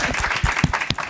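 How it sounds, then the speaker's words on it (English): A round of applause from an online climate event audience, brisk clapping with sharp individual claps standing out, moderately close and continuous for a short burst. "Let's get one more round of applause for Toddi and our speakers, Anjali, Sanduni, Charlotte, and Shannon."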